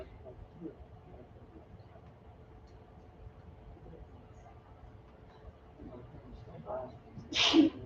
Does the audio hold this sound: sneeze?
yes